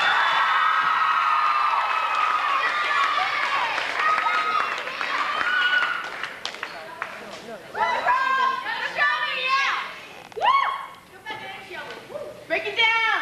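Audience at a junior high school pep rally applauds and cheers as the junior high cheerleaders take the floor, a broad wash of clapping and whoops with crowd chatter, followed by shouting and music-like bursts.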